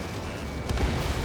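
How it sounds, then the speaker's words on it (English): A missile strikes its target in Ace Combat 7, a brief low boom swelling out of steady jet and wind rumble. "Missile hit."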